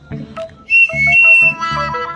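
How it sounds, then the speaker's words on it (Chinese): A bird-shaped toy water whistle blown dry, without water, gives a few short, loud, shrill toots in a close, uneven sequence. "我这有个好玩的口哨，你试试。"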